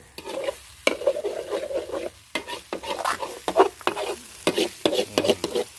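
Food being stir-fried in a pan: irregular scraping strokes of a spatula and bursts of sizzling, close up and moderately loud, with short pauses between the stirs.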